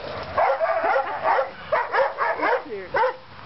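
Close, loud barks and yelps from a former stray street dog come in uneven clusters, some drawn out into whiny tones, with nothing else heard behind them.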